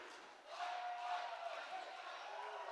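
A home crowd cheers in a high school gym during a varsity boys volleyball game between Wasatch and Springville, a faint, distant swell of voices and a whistle-like tone rising after a quiet start.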